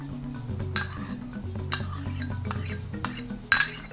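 Sliced onion goes into pork larb and is stirred with a utensil, giving sharp metallic clinks against the bowl at a steady rhythm over about four seconds.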